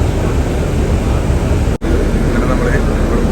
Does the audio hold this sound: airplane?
yes